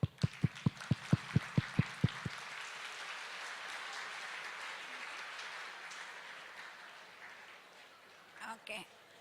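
An audience at an expo session claps, starting with a few sharp, loud, evenly spaced claps and then swelling into sustained, fairly faint applause from many hands that slowly fades, with a few more handling sounds near the end.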